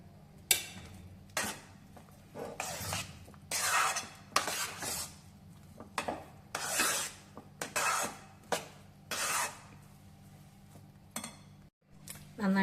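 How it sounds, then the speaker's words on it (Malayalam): A spoon scrapes and stirs rava halwa with ghee in a pan, giving repeated short scraping and rubbing strokes at a steady rhythm, close and moderately quiet, with no voices. "ഇതിൻ്റെ അകത്തോട്ട് നമുക്ക് 1 സ്പൂൺ നെയ്യും കൂടെ ഒന്ന് ചേർത്ത് പയ്യെ ഒന്ന് ഇളക്കി കൊടുക്കാം."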